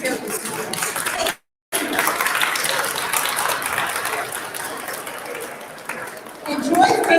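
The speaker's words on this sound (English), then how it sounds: "Please join me in a round of applause for the students, the graduates, their families, and all of those people who helped prepare this event." Crowd applause at a university graduation ceremony, a broad steady wash of clapping from a large audience, briefly cut by a short silent gap and then continuing evenly to the end.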